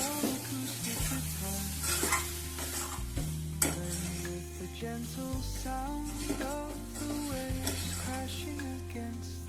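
A spoon stirs soya chunks into sizzling masala in a pan, giving steady scraping and clinking against the metal over a low frying hiss, close and continuous.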